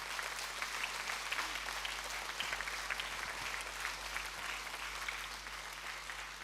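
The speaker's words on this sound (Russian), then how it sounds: "Давайте же подкрепим поздравления громкими аплодисментами." Sustained applause from a crowd at a harvest festival awards ceremony in the Polesie region of Belarus, a steady dense patter of clapping filling the whole stretch without a pause.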